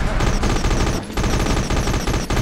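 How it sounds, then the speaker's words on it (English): Rapid gunfire from the video game Dredd Vs. Death, a loud, dense, continuous volley of shots filling the whole moment with barely a pause. "I'm shooting you in the face"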